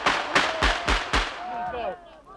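Gunfire at a graveside funeral in Vlora, Albania: four sharp, loud shots in quick irregular succession, followed by fading echoes and faint voices in the background.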